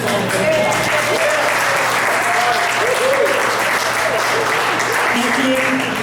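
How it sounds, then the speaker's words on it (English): A room full of people at a municipal candidates forum gives a sustained round of applause, dense clapping that holds steady throughout with a little voice mixed in. "let's give a round of applause to Joan for getting this all together"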